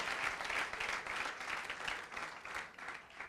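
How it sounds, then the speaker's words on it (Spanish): A church congregation breaks into steady applause during a sermon, a faint, distant wash of many hands clapping with no speech over it. "Dale un fuerte aplauso al Rey si lo puedes aplaudir."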